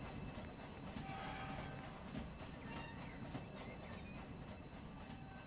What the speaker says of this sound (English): The train! Train! I'm not gonna catch up with him.